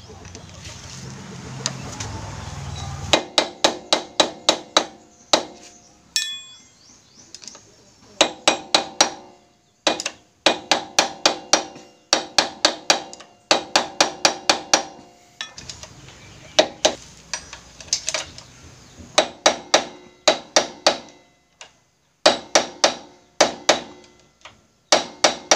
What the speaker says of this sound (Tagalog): Tapos papaluin natin, kasi maluwag siya.